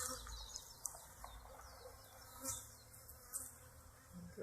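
Honeybees buzz steadily in a top bar hive during an inspection, a constant faint hum with a few scattered chirps and no talking.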